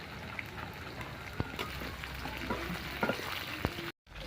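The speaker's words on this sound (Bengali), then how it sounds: "এই তেলে আমি এই পেঁয়াজগুলো ভেজে নেব।" Onions and capsicum fry in hot oil for an egg chilli dish, a steady crackling sizzle with a few sharp clicks of stirring against the pan, then a brief dropout near the end.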